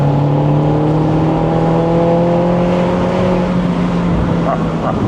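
Mini Roadster JCW pulling hard under acceleration with a little wheel spin, a steady loud engine note climbing in pitch through the gear, close and continuous with no other sounds.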